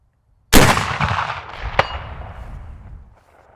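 A vintage cap lock rifle fires a single loud, close shot at a target 300 yards away outdoors, with a sharp crack followed by a long rolling echo that slowly fades.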